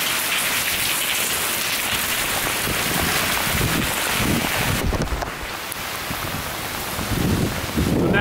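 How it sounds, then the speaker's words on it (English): Heavy rain pours steadily during Hurricane Irma, a dense continuous roar with wind buffeting the microphone, loud and close with no voices. "So now it's raining pretty good,"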